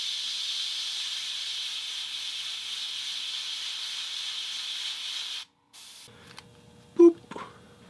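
A spray can of white paint hisses steadily onto a 1:64 scale model Jeep, a continuous close, even spray that cuts off abruptly, followed by a few quiet handling clicks and a short bump.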